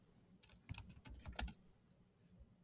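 Quiet, brisk typing on a computer keyboard, a short run of close key clicks in an otherwise still room, no voices.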